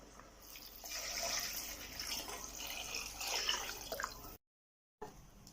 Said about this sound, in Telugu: 12 గ్లాసులు నీళ్లు పోస్తున్నానండి